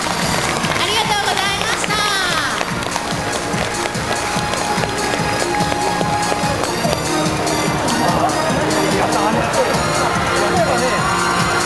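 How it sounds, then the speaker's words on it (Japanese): Crowd applause rings out at an outdoor tree-lighting ceremony in front of the Aeon Nagoya Dome shopping centre, continuous and dense with cheering voices and busy background music throughout. "皆様もう一度大きな拍手でお送りください"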